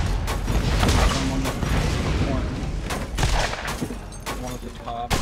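Loud, rapid gunfire from weapons in the Borderlands shooter game, a continuous fusillade of overlapping shots and sharp cracks, close and dense throughout with some voice underneath.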